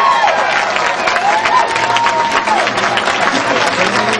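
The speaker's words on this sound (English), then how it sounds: "Let's start by giving her a round of applause." Audience applause for a young fundraiser on a variety show, a dense, steady wash of clapping from a sizeable crowd at close range, with a faint whistle-like tone and light cheering mixed in throughout.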